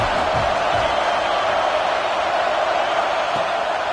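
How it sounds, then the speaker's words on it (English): Steady stadium crowd roar from the College Football 26 video game, a continuous broadband wash of cheering and murmur that holds loud and even throughout, with faint low thumps underneath. "This crowd bringing the energy and noise early."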